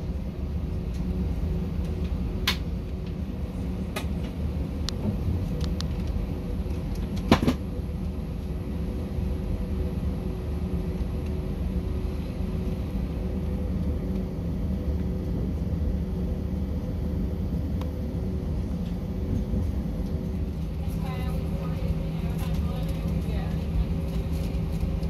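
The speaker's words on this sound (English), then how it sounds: "Flight attendants, prepare for takeoff." Inside the cabin of an American Airlines A319 during takeoff, a steady low engine roar builds and holds, with a few faint clicks and rattles on top.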